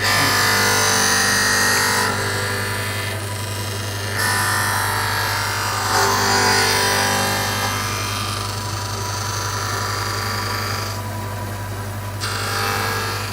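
A Matronix auto-edger from South Korea, an automatic lens edging machine, grinds and cuts an eyeglass lens with a loud, steady motor whine and grinding hiss that shifts in pitch and strength as the cut goes on.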